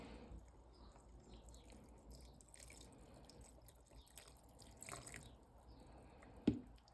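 Water trickles and drips softly over wool being soaked in a crafting session, faint close splashes and patters with a sharper splash near the end, no voices.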